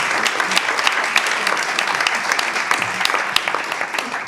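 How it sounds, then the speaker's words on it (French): An audience at an evening panel discussion claps steadily, a dense round of applause heard close and sustained from start to finish. "Merci de l'applaudir."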